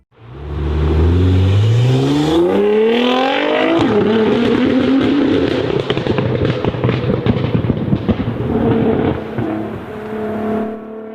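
A Nissan GT-R R35 engine revs hard and loud, sweeping upward through several climbing pitches into a sustained, close roar with crackling bursts that settles as it eases off.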